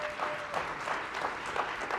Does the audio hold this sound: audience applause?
yes